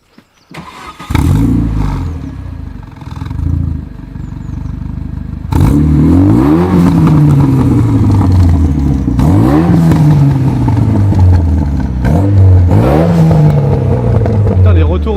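A Renault Mégane RS starts with a crank and catch, settles into a rough idle, then is revved repeatedly in sharp rising-and-falling bursts, loud and close throughout.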